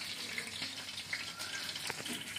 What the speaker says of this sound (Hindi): मच्छी को जितना हो सके सिम पे पकाइए